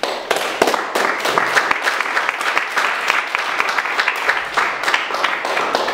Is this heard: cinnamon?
no